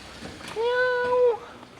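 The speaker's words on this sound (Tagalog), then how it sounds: "Ayun, may pusa oh." A cat in an old village quarter of Villefranche-de-Conflent, France, gives a single clear, fairly close meow of under a second, with faint outdoor ambience around it.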